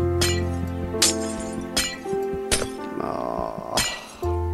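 Glass blocks clink and shatter in Minecraft, a video game: four or five sharp breaking crashes at steady intervals over layered game music, each bright burst followed by tinkling fragments.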